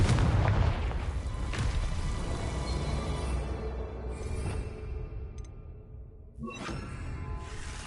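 A Confringo blasting spell in Hogwarts Legacy explodes with a loud booming burst that rolls and decays over several seconds, followed by a smaller second blast near the end.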